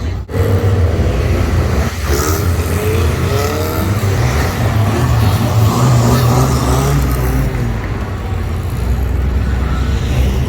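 Banger racing car built on an Austin Mini with a 1-litre A-series engine, racing at Lochgelly Raceway in Scotland; loud, continuous engine drone with revving rises and falls, other cars blending in close by.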